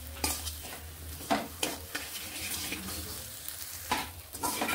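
Dal puri filling being sautéed with salt in a pan: spoon strokes scrape and clatter against the pan at irregular intervals over a soft, steady sizzle, close up with no talk.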